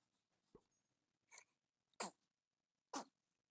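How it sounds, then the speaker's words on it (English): Several small, soft sneezes from a person during a RISK game session, a short faint burst followed by three sharper little puffs spaced about a second apart, close and quiet with no talk over them. "Are you making little baby sneezes?"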